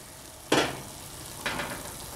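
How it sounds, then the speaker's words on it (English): Vegetable broth poured into a pot of kale and squash soup makes two short bursts of sizzling hiss. Each burst fades quickly, and nobody speaks. "I'm adding just a cup of veggie broth into the soup."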